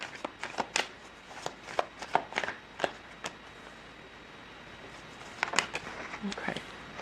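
Tarot cards being shuffled in a series of quick, crisp riffling bursts and flicks, fairly close, with pauses between, while a person talks over parts of it.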